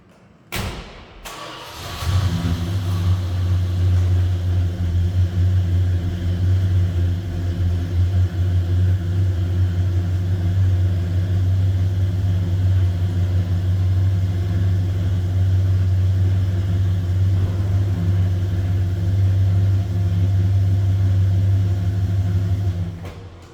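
A 1967 Dodge Coronet 500 convertible's V8 thumps to life and settles into a loud, steady, close engine drone that holds for about twenty seconds before cutting off.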